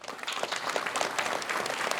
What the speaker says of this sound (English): Did everybody give Paul a round of applause?